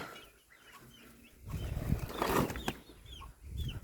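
Soft clucking and chirping from a bantam hen and her chicks, with a brief flutter of wings midway, fairly quiet and close.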